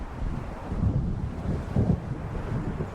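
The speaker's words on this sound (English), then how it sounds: "It seems there's a storm coming." Stormy wind and waves in the video game Alan Wake: a steady, dense low roar of gusting wind and surging water, loud and continuous with no voices.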